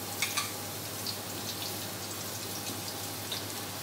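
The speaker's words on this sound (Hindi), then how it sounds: "अपने साबित गरम मसाले को भूनना है, ठीक है, इसको हल्का सा रोस्ट कर लेंगे" Whole garam masala spices, including black pepper and fennel, dry roasting in a pan give a faint, steady crackle with a few small pops near the start. No one speaks.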